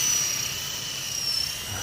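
A Sky Rover Renegade toy drone flies outdoors in the wind, its small rotors giving a steady high-pitched whine that holds at an even level with no talk.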